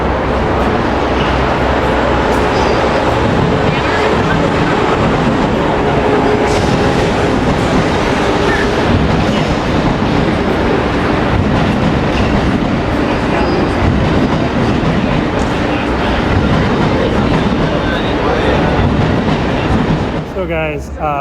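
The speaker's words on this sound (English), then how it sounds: "That is the old Acela train going into the old tunnel" An older Amtrak Acela train rolls into a rail tunnel, its loud continuous rumble and rhythmic wheel clatter filling the scene, with faint wheel squeal, before cutting off near the end.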